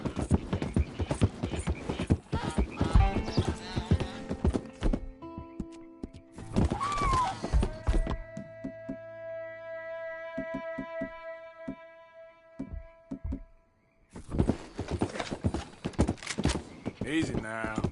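Horse hooves clip-clop steadily as a mount is ridden in a PS4 video game, in bursts separated by quieter stretches of sustained game tones, while someone talks over it.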